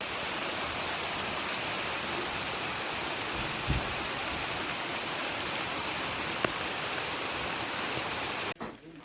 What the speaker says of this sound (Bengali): জানালার উপরে বসে আছি আর বাইরে বৃষ্টি।